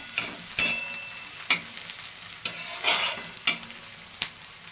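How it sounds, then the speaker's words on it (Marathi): Chopped onion fries in a pan and is turned until golden brown for a Maharashtrian greens dish. A steady close sizzle runs throughout, broken by about six sharp scraping stir strokes spaced roughly a second apart, with no voices. "ब्राऊन कलरचा होईपर्यंत चांगला सोनेरी कलर येईपर्यंत परतायचे"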